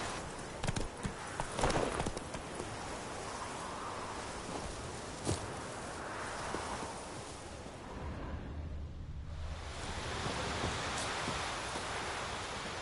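Hooves of Roach the horse in a video game clip-clop at a walking pace, moderately close, over rustling ambient noise with a brief whoosh midway.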